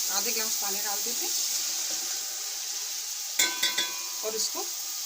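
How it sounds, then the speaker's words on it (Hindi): Half a glass of water is poured into white kofta masala sizzling in a pan, giving a steady loud sizzle with a few brief splashing clatters near the end, after a voice talks at the start. "आधे गिलास पानी डाल देते"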